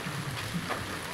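Heavy rain pours down while people shelter, unable to leave for fear of getting soaked; a dense, steady hiss of falling water fills the short moment with no voices.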